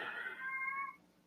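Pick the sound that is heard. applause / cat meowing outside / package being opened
cat meowing outside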